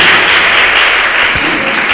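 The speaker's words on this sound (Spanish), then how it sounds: "Aplauda al Señor." A church congregation in Laredo, Peru claps for the Lord during a Sunday service, loud, dense and sustained applause filling the whole short stretch without pause.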